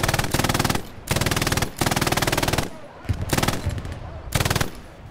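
An MG42 machine gun in Hell Let Loose, a World War II shooter, fires long, rapid bursts of loud, close automatic fire, with brief pauses between four or five sustained strings of shots.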